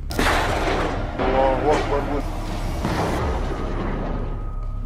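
Artillery shelling with mortar and bomb explosions in war footage from Rafah, heard as loud, dense booms and blasts across the whole stretch, with faint voices mixed into the din.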